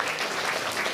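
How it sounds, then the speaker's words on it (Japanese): A theater audience at Turtle Talk in Tokyo DisneySea claps in a brief, dense burst of applause that fills the moment, fairly quiet and without voices. "みんなアツシに拍手を送ろうぜ"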